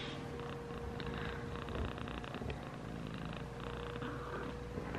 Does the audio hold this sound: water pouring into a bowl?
no